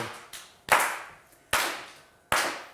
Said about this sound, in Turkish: Bu kadar hevesli, üzgün alkışla ilk defa duyuyorum